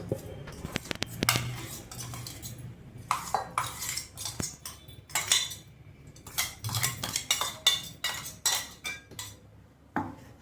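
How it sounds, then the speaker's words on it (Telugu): A spoon stirs ground coconut and wheat flour together in a bowl, giving irregular metallic clinks and scrapes against the bowl in quick clustered bursts, close and fairly quiet. "ఒకసారి కలబెట్టుకున్నాను స్పూన్ తోటి, కొబ్బరి ఇది కలిపేటట్టుగా"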